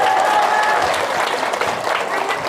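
An audience at a religious talk breaks into steady applause, a dense wash of many hands clapping close by with a few voices mixed in.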